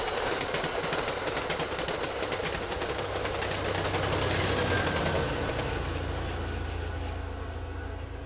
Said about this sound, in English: we see a train going from Fitchburg to Boston,